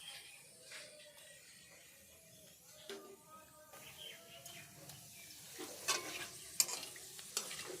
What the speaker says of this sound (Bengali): এবার এর মধ্যে জিরা, গোটা জিরা, তেজপাতা ও শুকনো লঙ্কা দিয়ে 1 মিনিট মতন এগুলোকে ভালো করে ভেজে